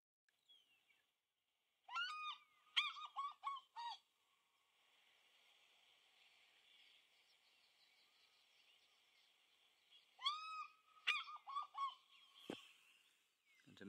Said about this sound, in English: the sound of the fish eagle is the best possible call